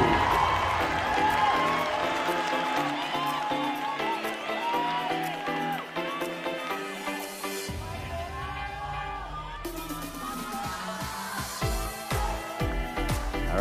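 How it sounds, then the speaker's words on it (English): Pageant audience at the Miss Grand International 2020 final show applauding and cheering for a contestant, a steady loud wash of clapping and crowd noise mixed with stage music throughout. "please give a huge round of applause to"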